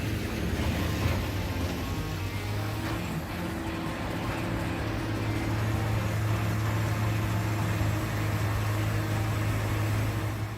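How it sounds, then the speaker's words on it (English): A 2015 Peterson 5110C wood grinder processing wood, a loud, unbroken mechanical drone with a steady low hum and constant grinding noise running throughout. "The 2015 Peterson 5110C is a powerhouse in the wood grinding industry"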